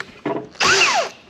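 A short power-drill whine as the bit bores into metal on a vintage Caterpillar tractor part, starting with a brief burst and then a louder sustained spin that shifts in pitch, close up and with no talking.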